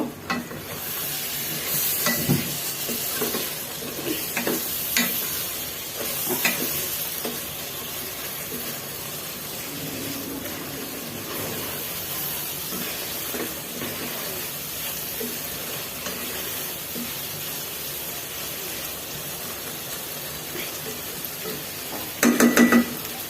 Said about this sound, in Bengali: তো এই তো একটুখানি কাঁচামরিচ দিয়ে দিলাম, আর একটু নেড়ে চেড়ে দিব।